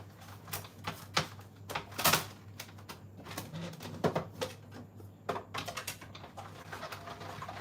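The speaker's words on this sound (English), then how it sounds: "I'm just going to run that through my cut and emboss machine" Clacking, crunchy clicks and rattles from a cut and emboss machine pressing a 3D embossing folder for a handmade Christmas card, a steady close sequence of irregular sharp taps over a low background hum.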